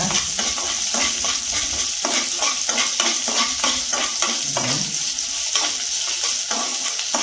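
Chana dal and small onions fry in oil for lemon rice, a loud continuous sizzle with rhythmic scraping strokes of a ladle stirring against the pan.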